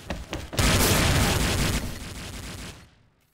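Grenade blast in the shooter game XSHOT: a short burst of small thumps, then one loud, broad explosion that roars for about two seconds before dying away.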